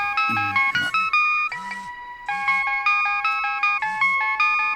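A mobile phone rings with a bright, repeating electronic melody that plays steadily throughout, in a home setting, with a few low background sounds beneath it.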